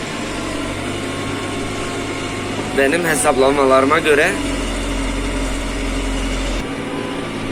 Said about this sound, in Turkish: Şu an 16-17 gaz ile bazen mesela bu çukurlarda girip çıktığımda traktörü zorluyor.